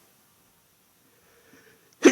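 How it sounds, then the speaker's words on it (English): A single short, sharp sneeze bursts out at the very end, loud and close, after near silence with only faint room murmur. "Oh, I was gonna sneeze."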